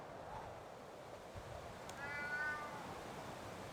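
A cat in the RuneScape video game gives a single short, rising meow over a faint hissy background, brief and fairly quiet.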